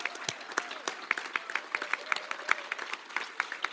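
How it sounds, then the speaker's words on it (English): An audience claps at a summit session, a burst of moderately dense applause with individual claps distinct, lasting several seconds without fading much. "I reckon she deserves a round of applause"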